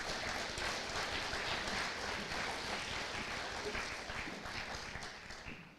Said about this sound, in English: Can we please have another round of applause for our academic achievement recipients?